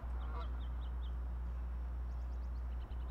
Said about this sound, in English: let me see if I can get them ducks.